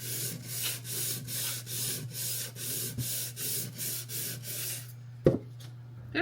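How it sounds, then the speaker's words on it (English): Sandpaper rubbing over a painted IKEA MOPPE wooden mini drawer, a steady run of back-and-forth strokes at close range over a low hum, ending with a sharp knock and a short scrape. "I'm gonna just sand that."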